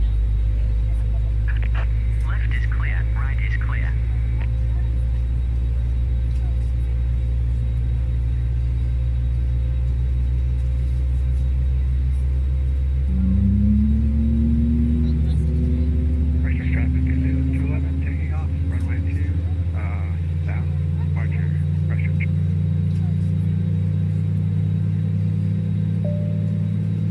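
Airbus A320 engines starting in a flight simulator on the ground at Queenstown, a steady low rumble and hum with a rising whine that climbs partway through as the engine spools up, continuous and fairly loud.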